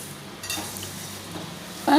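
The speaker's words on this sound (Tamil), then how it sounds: "ரெண்டு கரண்டியால் அப்படி கலக்கி கலக்கி கொடுங்க" Puffed rice roasting in a pan is stirred with two ladles, giving soft rustling scrapes and light clinks over a low sizzle, fairly quiet and close, ending in a brief louder burst.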